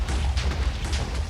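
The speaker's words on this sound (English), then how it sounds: "I heard that. Explosions? Who's setting things off?" Explosions in the Minecraft video game, a deep booming rumble with a few overlapping bursts packed into a short, loud moment.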